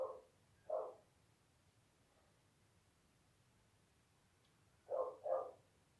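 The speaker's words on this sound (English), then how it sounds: "I hope you guys can't hear all the dogs barking outside the window." Several dogs bark outside a window in Chile, short bursts heard at a distance: two barks, a long pause, then a quick double bark, with no talking.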